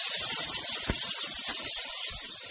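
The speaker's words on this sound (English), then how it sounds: "Y'all hear that chicken going?" Steady, hissy sizzle of adobo-and-garlic-seasoned chicken frying in butter, a continuous crackling texture with one brief louder pop partway through, no voices.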